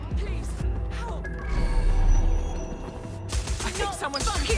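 Gunfire in the video game Watch Dogs Legion: a dense, chaotic spread of shots and impacts mixed with loud game ambience, with voices shouting over it throughout.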